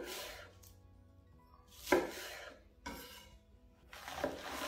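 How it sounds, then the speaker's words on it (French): Kitchen knife cutting washed vegetables such as endives lengthwise on a board for anchoïade, three separate crisp slicing strokes with soft contact thuds, quiet and close, no talking. "prendre les légumes qu'on a préalablement lavés et les couper dans le sens de la longueur"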